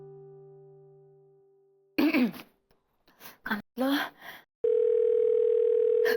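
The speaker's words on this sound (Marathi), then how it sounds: "रिंग वाजते." A telephone in a call tone sounds a steady electronic tone at the start, then brief spoken voices and throat noises, then a louder sustained ringback tone returns at the end.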